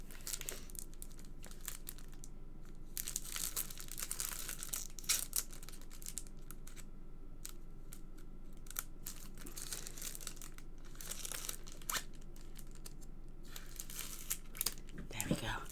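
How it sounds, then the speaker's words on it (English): Scissors cutting open a fresh packet of card stock, giving continuous crinkling and tearing of packaging that stays close and fairly loud, with brief louder crackles throughout. "So I've got to open a new packet. Bear with me a second. I'm going to use scissors, it's quieter."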